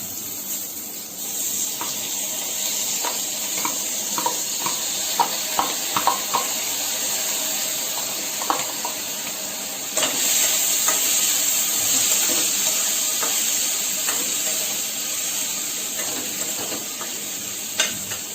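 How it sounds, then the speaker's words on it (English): Tur dal is stirred into a sambhar curry in a hot pan: a continuous hiss of frying with repeated scraping and clicking of a spoon against the pan, close and without speech. "Mix it well. Add the tur dal."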